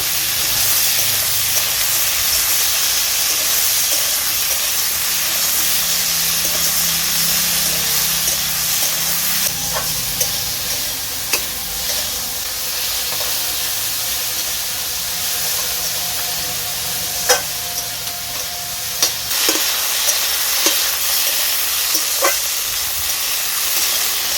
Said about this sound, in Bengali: এবার ভেন্ডিগুলো আমি হালকা ভেজে নেব